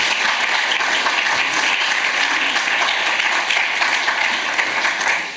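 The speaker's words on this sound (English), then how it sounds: "please give a round of applause for our panelists today" Seminar attendees applaud a panel of speakers at an EU conference, a steady, fairly loud round of clapping sustained throughout and easing off at the close.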